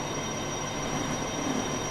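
An Indian Army train, number 46412, rolls along its rails with a loud, continuous rumble and a steady high whine, no pauses or voices throughout.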